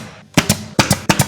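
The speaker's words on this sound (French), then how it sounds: "je vais clouer ça" Trim being nailed during an apartment renovation, three pairs of sharp, loud hammer blows in a quick double-tap rhythm, close and alone without speech.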